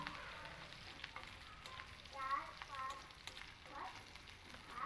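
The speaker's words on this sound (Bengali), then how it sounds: "এবার এই আদা কাঁচা লঙ্কাটা খুব ভালো করে মশলার সঙ্গে একটু ভেজে নেব।" Grated ginger and green chilies fry in oil with spices for semolina pulao, a soft, steady sizzle broken by occasional stirring scrapes.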